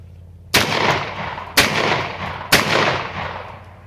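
Three loud, sharp blasts from a Catamount semi-automatic shotgun, fired about one second apart, each followed by a brief rolling echo, with no talking.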